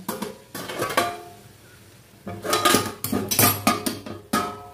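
A lid set onto a pan of garlic fried rice, several clattering metal knocks and scrapes in two bursts with a quiet gap between, close and fairly loud.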